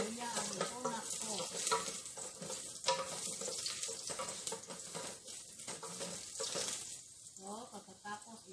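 Ginger fries in a pot as the first spice for an Arabian margoog stew, making a moderate sizzle broken by stirring scrapes and clinks, with faint talk underneath.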